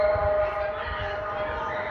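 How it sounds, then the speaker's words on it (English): A civil defense siren sounds during an earthquake simulation drill in Mexico City, a steady sustained wail heard from a rooftop under general city background noise, with some talk present. "Now you can hear the earthquake alarm."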